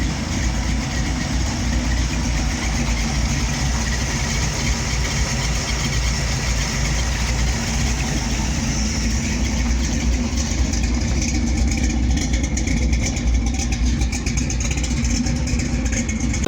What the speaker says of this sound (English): We'll put a clip in there of the truck running.